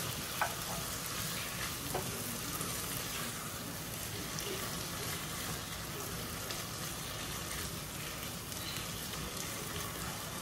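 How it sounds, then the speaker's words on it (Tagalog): Halved mushrooms frying with chicken and ampalaya in a pan, giving a steady, dense sizzle throughout with a few faint stirring knocks, close and continuous. "Tapos ilalagay na natin yung mushroom."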